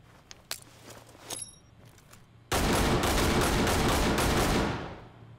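In the tactical shooter Ready or Not, a few footsteps and small clinks lead into a sudden, loud burst of sustained gunfire that lasts about two seconds before tapering off.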